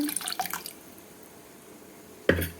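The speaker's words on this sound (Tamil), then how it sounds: "லைட்டாக அந்த சட்டி வந்து அலசிட்டு லைட்டாக ஊற்றிக்கிறேன்" Water splashes briefly as a cooking pan is rinsed, then a short, louder pour follows near the end, with quiet room noise between the two bursts.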